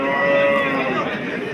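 Young bulls and cattle at a livestock market in Sirdaryo, one animal giving a loud, sustained moo close by, with crowd murmur in the background.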